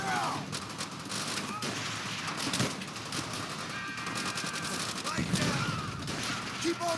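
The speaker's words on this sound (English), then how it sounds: "Keep on that MG!" Rapid machine gun bursts and scattered gunfire from the World War II shooter Call of Duty: World at War, loud and continuous throughout, with voices shouting over the battle.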